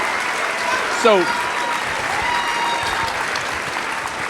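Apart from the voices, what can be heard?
audience applause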